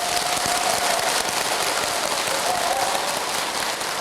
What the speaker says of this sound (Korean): 어차피 박수 친 거 편집돼요